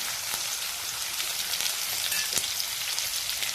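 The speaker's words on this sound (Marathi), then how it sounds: "कांदा चांगला परतून घ्यायचा।" Chopped onion and crushed garlic fry in a pan for a ridge gourd vegetable dish, giving a steady soft sizzle with a few sharp crackles and pops, close and fairly quiet, with no talk.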